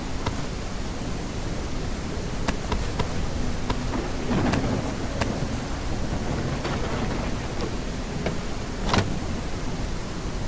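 Steady rain hisses in the Everwind game, with sharp crackling thunder strikes scattered throughout and no voices.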